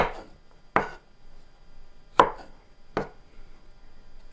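A knife chops vegetables, such as celery, finely on a board for a New Year's casserole, giving four sharp, close chops at uneven intervals with quiet between them and no talking.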